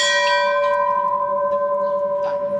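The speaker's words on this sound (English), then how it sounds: "So now, The gong." A temple gong struck once rings out loud and close, its long sustained metallic tone humming steadily as it slowly fades.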